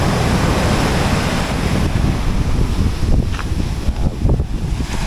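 Sea waves washing onto the shore along a fishing coast, a continuous loud roar of surf mixed with heavy wind buffeting the microphone, with no voices.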